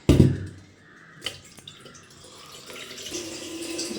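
Water runs from a kitchen tap to prepare rice for cooking, a steady close stream that follows a sharp initial splash and builds slightly louder toward the end, with no talking.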